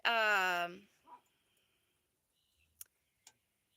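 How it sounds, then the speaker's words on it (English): A household dog lets out one short, high bark or yelp near the start, then the room goes quiet apart from a few faint soft clicks. "of course having the dogs, as you can hear, the dogs are a good warning system as well."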